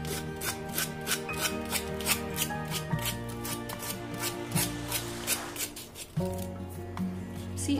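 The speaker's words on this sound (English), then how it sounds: "I am using a sandpaper." Sandpaper rasps against the edges of a kitchen paper towel holder in quick, repeated close strokes, a steady scratchy rhythm with no talking.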